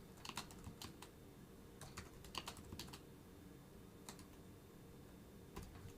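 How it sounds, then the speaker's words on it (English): Rapid keystrokes clatter on a computer keyboard during live coding, arriving in quick bursts with short pauses, close and fairly quiet with no talking. "Let me try typing it with my eyes open."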